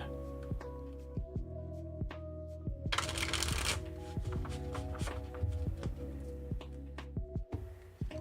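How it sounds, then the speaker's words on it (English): Oracle cards being shuffled by hand, a light, brief shuffle with a burst of riffling and soft card taps, heard close over a steady low background hum. "I don't shuffle this one too crazy, meaning just not a lot."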